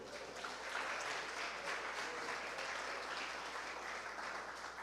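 A church congregation applauds during a sermon, a broad, fairly quiet wash of many hands clapping steadily with a faint low hum beneath.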